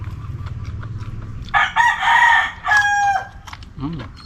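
A rooster crows loudly nearby in two long calls, with a low hum and faint clucks around them.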